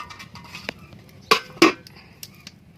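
A lid clanks onto a metal cooking pot of potatoes for chal kumro shak, with two sharp, close metallic knocks amid a few lighter clinks in a quiet kitchen.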